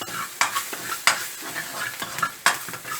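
Sliced chilies and garlic fry in oil with a soft bubbling sizzle, broken by several sharp scrapes and taps of a utensil stirring against the pan, close and clear.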